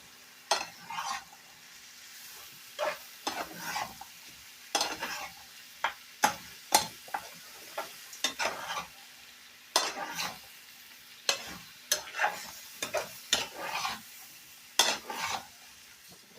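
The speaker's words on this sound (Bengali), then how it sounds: "সবজির মধ্যে এবার আমি দিয়ে দেবো এক চামচের মতো দই আবারও একটু নেড়ে নিতে হবে" A drumstick vegetable curry with mustard paste and yogurt is stirred in a hot pan: repeated close scraping strokes in uneven bursts over a quiet sizzle, no voices.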